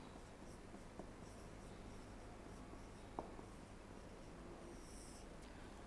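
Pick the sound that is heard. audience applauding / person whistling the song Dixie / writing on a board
writing on a board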